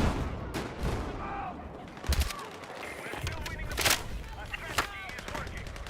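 Carbine fire in Battlefield 6 crackles in quick bursts and single sharp shots amid distant battlefield gunfire, with a player talking over the action.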